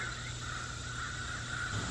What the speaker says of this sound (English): listening to all the birds